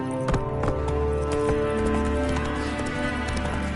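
A horse galloping in The Witcher video game, rapid rhythmic hoofbeats thudding close and steady throughout, with a faint whinny-like tone mixed in.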